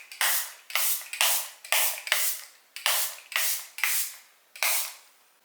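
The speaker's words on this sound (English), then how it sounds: "I will go in with this mattifying setting spray as well, just to lock a bit more in." Mattifying makeup setting spray pumped from a bottle in a series of eight short, close hissing bursts spaced about half a second apart, each fading quickly, with no talk.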